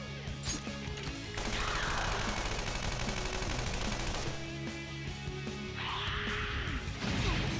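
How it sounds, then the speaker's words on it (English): Gunfire from the characters' guns in a Persona 5 Royal battle: rapid, dense bursts of shots and impacts crashing over a steady layer of game music and effects, loud and continuous with sharper flurries. "Let's take it down with our guns and skills."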